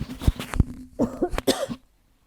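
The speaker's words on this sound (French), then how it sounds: "je vais tousser" A person coughs several times in quick succession, close and loud, ending in a few rough throat sounds before silence.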